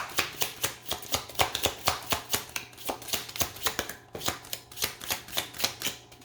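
Rapid, crisp riffling of a tarot card deck, repeated in quick bursts of flicking snaps, close and fairly loud, with no talking.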